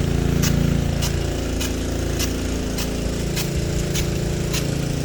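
A Rainbird 2-inch SR103 slow-reverse rain gun with a .70-inch nozzle runs on two pumps, a loud steady pump drone under evenly spaced sharp ticks from the rotating gun, with no talking.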